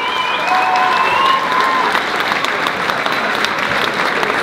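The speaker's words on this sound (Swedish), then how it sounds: "Får jag en stor applåd till båda dessa kvinnor." An audience at a women's fight event applauds steadily after the bout, loud dense clapping that holds throughout, with a couple of brief whistles or cheers early on.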